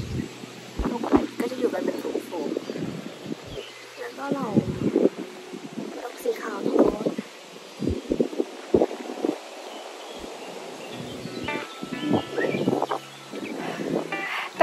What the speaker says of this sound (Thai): วันนี้ลมแรงมาก